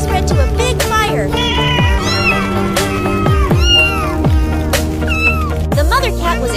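A cartoon kitten caught in a spreading fire screams and meows in loud, repeated sliding cries, overlapping a frightened mother cat's calls, with constant animated vocal activity throughout.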